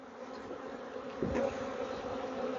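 Honeybees buzz around a beekeeper's hive in a wildlife garden, a close, continuous droning hum with a brief louder swell as one passes near, no talking.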